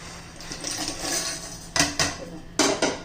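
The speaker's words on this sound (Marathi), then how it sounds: "हे आता ह्या मिक्सरच्या भांड्यामध्ये मी घालून घेते" Biscuit pieces dropped into a steel mixer jar, a few sharp clattering knocks after a soft rustle, close and distinct.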